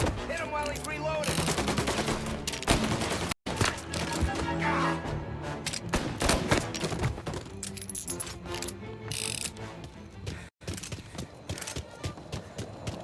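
Gunfire in the video game Mafia Definitive Edition crackles in dense, rapid clusters of shots mixed with mechanical clatter and game music, fairly quiet overall with two brief dropouts.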